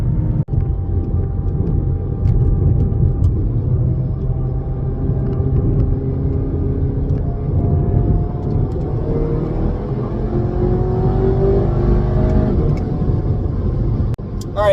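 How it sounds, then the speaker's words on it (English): A MK7 VW Golf Sportwagen fitted with 034 Motorsport Streetsport engine mounts drives on neighborhood roads, its engine and road noise a steady close rumble that climbs in pitch as it accelerates, with someone talking over it throughout. "I've just driven it around, kind of some loops and roads and on-ramps and some different conditions"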